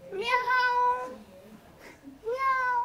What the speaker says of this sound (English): Unajua kuna paka?